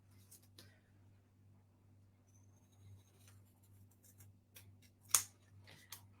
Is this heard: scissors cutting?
yes